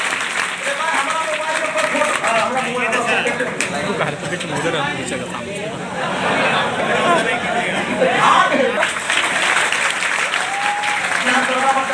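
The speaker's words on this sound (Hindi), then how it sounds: "जोरदार ताली हो जाए।" An audience at a gathering honoring candidates selected for the Bihar sub-inspector post claps loudly and continuously, dense applause mixed with crowd chatter and a voice speaking over it.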